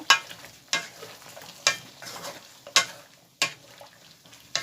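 Fish with flat beans sautés in a pan, a soft sizzle under evenly spaced scraping strokes of a spatula, about one stir per second.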